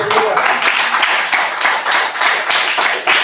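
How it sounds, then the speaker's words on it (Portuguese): A church congregation clapping together in steady, loud rhythmic beats, the claps dense and continuous across the space with little else audible. "Palmas por Jesus."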